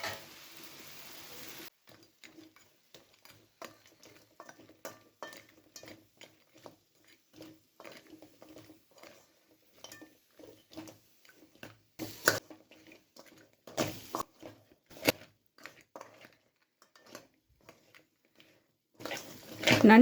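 Half a kilo of washed crab pieces stirred into masala in a pan, intermittent scraping, clattering and wet stirring knocks, close up, with gentle sizzling between strokes.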